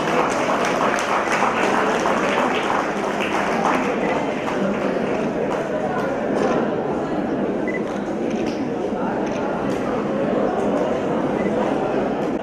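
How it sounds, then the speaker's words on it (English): Steady dense applause from a large audience at a graduation day ceremony, continuous loud clapping throughout with some voices mixed in. "Please give the big round of applause."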